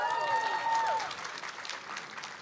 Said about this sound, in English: Now, why was everybody cheering for him?